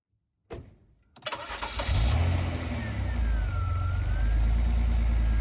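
A 1988 Pontiac Fiero with a rear-mounted engine cranks over briefly, then fires and settles into a loud, steady idle close by.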